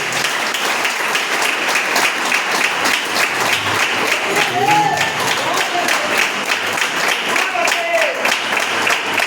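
A church congregation claps after a sermon, a sustained roomful of applause with some murmured voices and brief cheers woven through the middle.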